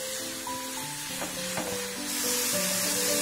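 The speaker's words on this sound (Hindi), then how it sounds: "2 से 3 मिनट पालक को हम कुक करेंगे।" Spinach sizzles in a pan with coriander powder and black pepper, a steady close frying hiss that grows louder and brighter partway through, with a few stirring knocks and soft music running underneath.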